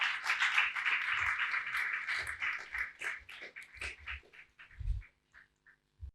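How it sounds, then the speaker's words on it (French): Audience members at an idea debate on diaspora and mobility applaud, a scattered clapping that starts fairly strong, then thins out and fades to a few isolated claps. "Sous vos acclamations, s'il vous plaît."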